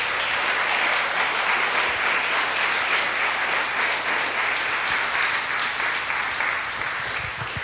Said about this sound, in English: Please give all these women a big round of applause.